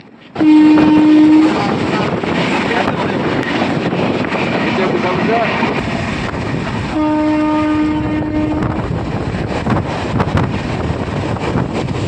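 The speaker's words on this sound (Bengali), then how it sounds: "ট্রেন দীঘার উদ্দেশ্যে ছেড়ে দিয়েছে" A Tamralipta Express bound for Digha runs on the rails, heard from inside a general-class coach. The horn sounds loudly twice over a constant rumble and clatter, with wind buffeting the microphone.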